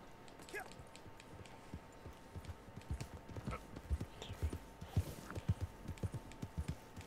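Horse hooves clip-clop at a steady walking pace in Red Dead Redemption 2, a regular run of soft low thuds that grow somewhat louder midway, heard alone over faint background ambience.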